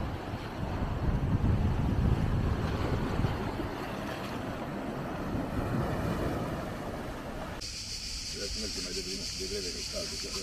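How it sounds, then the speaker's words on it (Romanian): Large waves break and wash onto the shore of Brač island at sunrise, a loud rolling rush and hiss with wind buffeting the microphone, continuous throughout. "Îmi plac tare mult și valurile, cum se sparg așa de mal."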